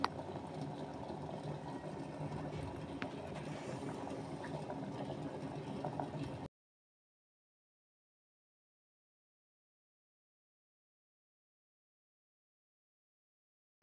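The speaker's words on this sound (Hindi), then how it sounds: "दूध उबलने लगा है, इसमें डाल देते हैं थोड़े से केसर।" Milk with rice and saffron simmering for kheer, a steady low bubbling and hiss that runs evenly for several seconds before cutting to silence.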